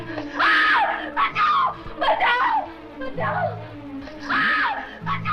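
A woman screams in a valley at night in a dramatic scene, a series of loud, high, drawn-out shrieks in short bursts, with other voices and sobbing between them.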